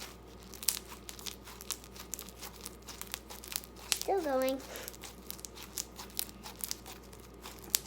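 Foam ball slime crunches and crackles in short bursts of crinkly popping while someone talks over it; midway a brief stretchy squelch stands out.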